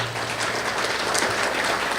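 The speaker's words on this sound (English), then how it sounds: "Could we give Ms. Grant a round of applause?" An audience at a prime minister's gala applauds, a dense, steady wash of clapping filling the whole moment at moderate loudness.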